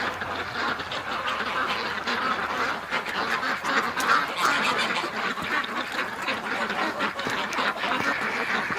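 A flock of ducks quacks continuously and densely at close range, a busy overlapping chorus with a few goose-like honks mixed in.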